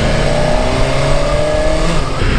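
A BMW motorcycle engine drones steadily at close range while being ridden on a demo day, with continuous loud engine and wind noise and no talking.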